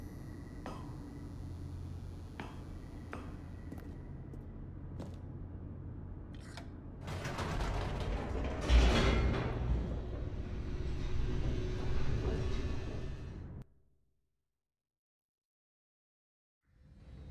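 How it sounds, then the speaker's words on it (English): A descending elevator in the video game The Stanley Parable: Ultra Deluxe makes a steady low mechanical rumble that swells louder and rougher midway, then cuts off abruptly into near silence before a faint return at the end. "The elevator raced downward, plummeting towards an unknown fate."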